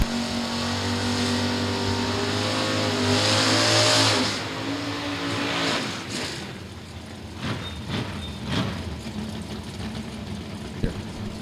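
A 1987 Monte Carlo drag race car at Crossroads Dragway revs loudly at a drag strip, its engine droning and rising steadily before dropping away, followed by further bursts of revving and crowd or track noise.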